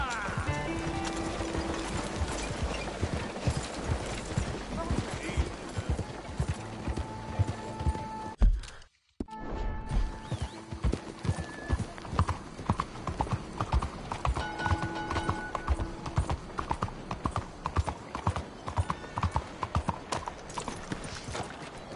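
A horse's hooves clip-clop in a steady walking rhythm, close and distinct, with a short gap midway and a brief whinny, under some game sound.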